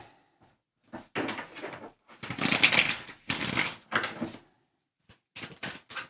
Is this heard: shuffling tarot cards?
yes